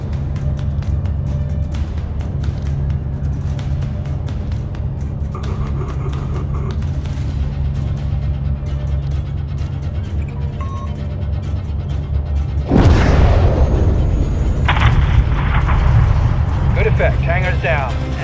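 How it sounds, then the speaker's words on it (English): Missile strike on a hangar in the shooter Call of Duty: Modern Warfare 3, a loud sudden blast with a long roaring rumble after a stretch of radio chatter and engine drone, voices talking throughout. "have your man drop a missile on that hangar"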